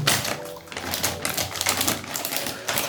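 A blade slices open a surprise package with a run of close, crisp scraping and clicking strokes of plastic and tape, no voices.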